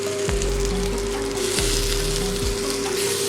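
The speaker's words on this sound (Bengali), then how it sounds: "এবার দিয়ে দেবো আমি কেটে রাখা পাকা টমেটোগুলো।" Chopped ripe tomatoes tip into a hot pan of boiled green tomatoes, setting off a loud, steady sizzle and frying crackle with a few soft stirring scrapes.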